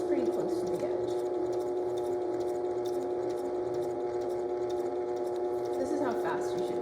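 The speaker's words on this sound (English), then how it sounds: "I'm gently putting the presser foot down, and then I will sew to this point, sew back to the horizontal line, and then to the end." A sewing machine stitches fabric in a steady, continuous motorized whir that runs nearby without a break, with the presser foot down and a back stitch planned.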